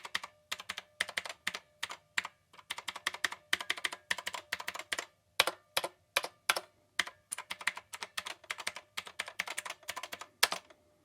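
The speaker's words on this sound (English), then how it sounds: "That's exactly what it sounds like with the mechanical blue keys." Loud, close clicky keystrokes from a Rymek KnewKey retro mechanical keyboard with blue switches, typed in quick irregular bursts with short pauses, no voices.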